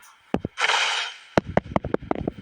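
A series of sharp taps of a hand on a tablet, close and dry, interrupted by a brief rustling burst, then quicker irregular tapping.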